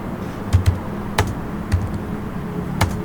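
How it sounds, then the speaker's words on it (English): Keys on a computer keyboard are tapped in an irregular run of light clicks up close while a line of text is typed, with no talking. "I am typing some information into it"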